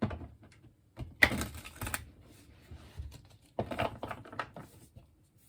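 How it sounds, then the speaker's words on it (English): Soft, papery riffling and tapping of tarot cards being shuffled, in several short bursts with pauses between, close by and fairly quiet. "Let's do some shuffling."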